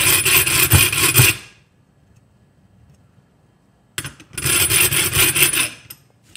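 A hand file rasps against the jaws of metal pliers, smoothing the sides for jaw harp repair: a loud burst of close strokes, a long silent pause, then a second run of steady filing.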